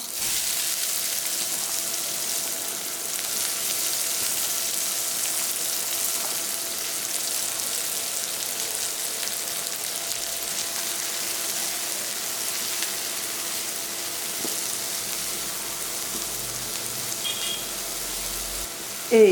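Finely chopped onions fry in a pan alongside cumin seeds, giving a steady, dense sizzle that holds evenly throughout at close range, with no talking over it.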